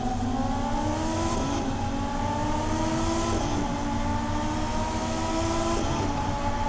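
Lamborghini Huracán engine in The Crew 2 during a street race, a steady loud drone with repeated rising rev sweeps and gear changes roughly every two seconds, heard alone.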